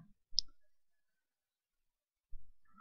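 Computer mouse clicking at a desk, two short faint clicks about two seconds apart, isolated against silence.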